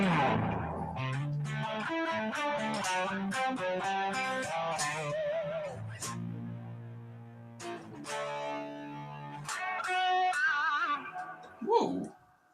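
An electric guitar with humbucker pickups plays through a boutique overdrive pedal with reverb, giving distorted chords and sustained notes in a loose, ringing phrase that fades at the end.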